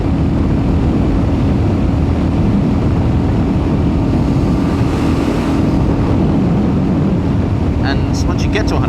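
Royal Enfield Hunter 350 motorcycle accelerating to 100 km/h on a freeway, heard as a continuous loud engine drone buried in heavy wind roar, with a rider's voice briefly near the end.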